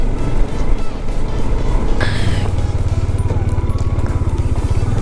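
A vehicle drives a rough off-road route to Pangong, its engine rumbling steadily and loudly from inside, with bumps and rattles over the broken track.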